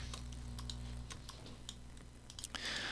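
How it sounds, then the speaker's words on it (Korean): Computer keyboard keys pressed as a zoom shortcut in Adobe Experience Design on a Mac, a few sharp scattered clicks close by over a steady low hum, with no talking. "커맨드 그다음에 키보드에서 플러스 버튼을 눌러서 확대를 하실 수도 있고"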